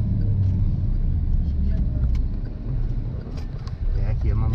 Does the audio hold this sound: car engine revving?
yes